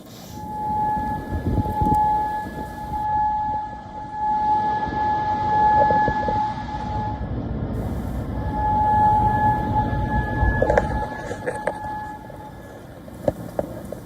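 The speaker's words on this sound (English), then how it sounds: "Air raid sirens echoed across Bahrain" A long, steady wailing air raid siren drones on in Bahrain, echoing over a low rumble of background noise and distant traffic.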